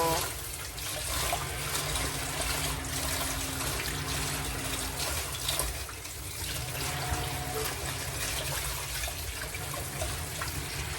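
Vegetables for a Filipino pork sinigang are rinsed under running water, a close, steady splashing flow that carries on without pause and with no talk.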